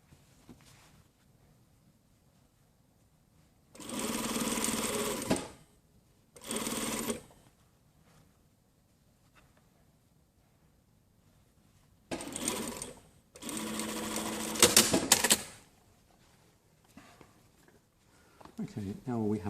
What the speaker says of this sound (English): And just sew across to the other side.